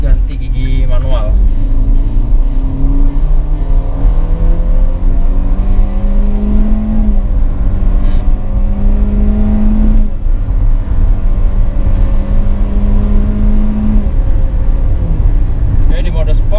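A Hyundai Creta in sport mode with automatic shifting accelerates hard, its engine note climbing steadily toward the redline, then dropping at each shift before rising again, loud and close inside the cabin.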